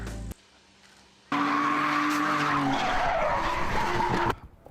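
A drifting car skids with a loud, piercing tire squeal and a straining engine, sustained for about three seconds after a brief quiet lull, then cuts off abruptly.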